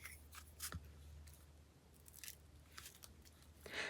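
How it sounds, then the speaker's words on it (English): Sharp scissors snip through tea-dyed paper in a few quick, crisp cuts, close and quiet, with no talking. "Cut them out."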